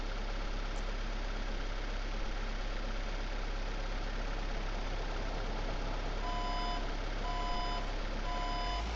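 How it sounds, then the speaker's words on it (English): A delivery truck in Grocery Store Simulator pulls in with a steady low engine idle, then gives three evenly spaced reversing beeps toward the end, clear and fairly close. "wait for the delivery truck to show up"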